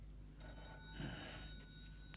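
A telephone rings with a steady electronic bell tone, quiet and continuous in an indoor setting of a 1930s-style detective drama.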